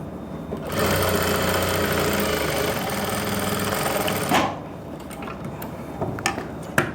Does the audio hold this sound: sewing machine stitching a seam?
yes